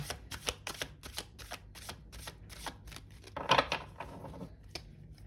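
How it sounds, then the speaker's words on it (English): Tarot cards riffle and snap through repeated quick shuffles, a soft crisp fluttering with a louder burst midway, close and quiet with no talking. "I will give the deck a few more shuffles."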